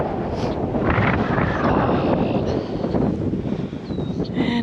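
Steady wind buffets a microphone outdoors at a nature reserve, a continuous low rumble and rustle filling the whole stretch without pause.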